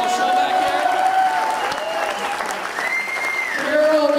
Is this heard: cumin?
no